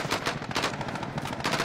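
Rapid automatic gunfire in the battle royale game Warzone, a dense, continuous string of loud shots with no pauses.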